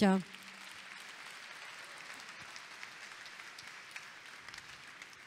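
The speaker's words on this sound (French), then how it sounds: "Et on les applaudit très fort, tous les 5." Steady applause from an audience at the Pierres d'Or 2016 real-estate awards ceremony, faint and even, with a brief voice at the very start.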